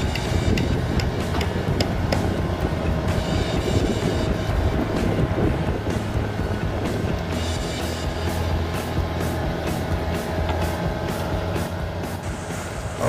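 Heavy machine rumbling steadily at close range as an amphibious excavator drives off to park after building a river embankment for farmers; a constant low drone with wind buffeting the microphone, no voices.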